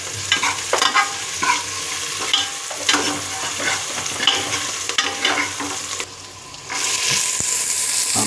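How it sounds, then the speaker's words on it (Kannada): Chopped onion sizzles steadily in hot oil for a tempering in a lentil saaru, with repeated scraping strokes of a spoon stirring the pan and a louder hiss near the end. "ಈರುಳ್ಳಿನ ಕಟ್ ಮಾಡಿಬಿಟ್ಟು ಎರಡು ಒಗ್ಗರಣೆಗೆ ಚೆನ್ನಾಗಿ ಹುರ್ಕೋಬೇಕು"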